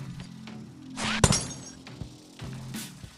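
In the Yeeps hide-and-seek game, a thrown cup of hot cocoa strikes glass panes that shatter in one sharp, loud burst of breaking glass. Soft thuds and quiet game ambience follow.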